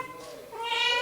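A cat meows once, a short rising call close to the microphone, after catching a mouse indoors.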